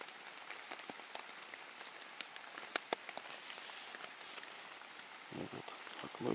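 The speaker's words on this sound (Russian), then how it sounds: "дождь достаточно сильный идет, вот можно его слышать," Heavy rain drums steadily on a taut one-person tent overhead, a dense patter broken by a few louder, sharper drops close by.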